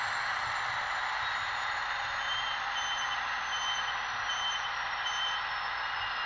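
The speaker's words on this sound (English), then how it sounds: "Finally, we have the brake squeal as your F59 comes to a stop." A model F59PH locomotive's brake squeal sound effect, a steady, high-pitched metallic squeal holding for several seconds over a low rumble as it stops, with no voices present.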